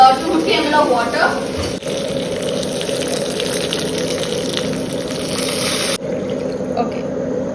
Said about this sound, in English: In this, I'm going to add 250 ml of water.